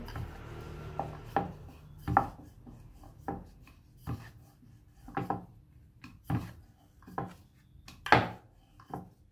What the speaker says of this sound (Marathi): पुरी लाटून घेतलेली।